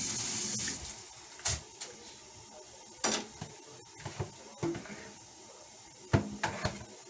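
Food is rinsed under a running kitchen tap for a Jamaican gungo peas soup, with steady water flow, close clunks and knocks of handling at the sink, and brief quiet moments.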